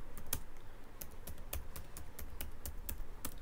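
Keys clatter on a computer keyboard as a Linux terminal command is typed, a quick irregular run of about a dozen sharp, close clicks with no voices.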